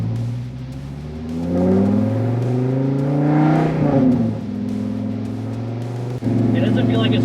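A Dodge Viper drives on the road after fresh fluids and new wheel bearings, its engine a steady low drone that swells and shifts pitch under continuous road noise.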